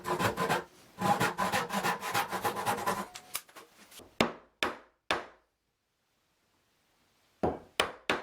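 Rapid back-and-forth strokes of a hand saw cutting waste wood from a dovetail joint, two bursts of sawing close up, then a few sharp separate knocks with silent gaps between them.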